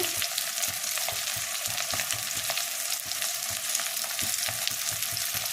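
Steady, dense sizzle of food frying in a pan for a green jackfruit curry, continuous crackle throughout with faint stirring scrapes, no voices.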